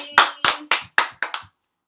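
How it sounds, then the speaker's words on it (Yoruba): Six sharp hand claps in a steady, slightly quickening rhythm, close and crisp, then silence, from audience clapping at a live Yoruba-language show. "Pàtẹ́wọ́ fúnra yín"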